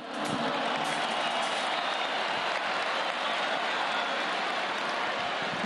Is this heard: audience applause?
yes